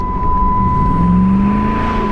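Loud, steady engine drone of a cheap auction-bought Ram Hemi pickup truck with a faulty transmission, running continuously up close with a sustained hum and no talk.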